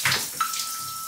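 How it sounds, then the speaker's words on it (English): Cold water running from a showerhead, a steady hiss of spray after a brief splash, close by with no voices. "And now I will go for a cold shower"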